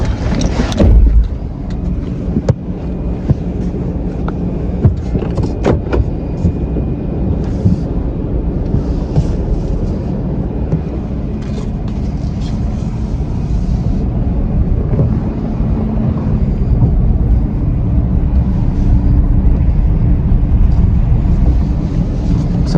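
Truck being driven up onto a flatbed tow truck, a loud low engine rumble and drone that continues throughout, with a few clanks near the start and a gusty, windy edge over the engine.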